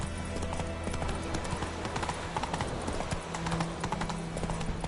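The horse Roach's hooves clip-clop at a steady walking rhythm in a PS4 video game, a continuous run of close, even hoofbeats.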